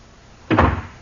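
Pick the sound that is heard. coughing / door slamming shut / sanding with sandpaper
door slamming shut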